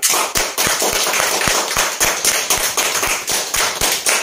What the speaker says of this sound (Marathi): चला मग एकदा स्वतःसाठी जोरदार टाळ्या वाजवा एकदा